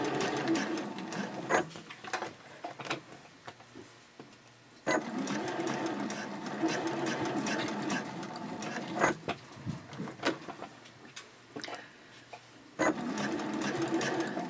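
A sewing machine stitches a small fabric pouch with pins holding the layers, its quick mechanical rattle running in short bursts with brief pauses, close and fairly quiet.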